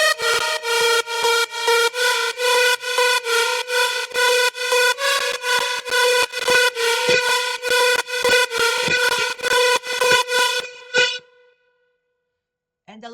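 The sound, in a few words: first synth lead made in FL Studio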